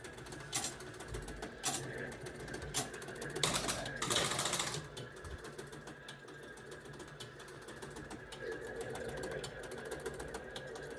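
Bow and Arrow pinball machine mechanism running on its own when the game is switched on, a faint clattering and ratcheting with sharp clicks and a busier burst near the middle.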